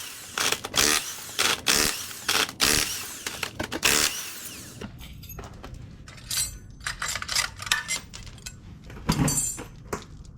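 Tools work to remove an automatic transmission flex plate, giving bursts of sharp metallic clanks and clinks, then quicker lighter rattles and taps, all close and uneven in rhythm.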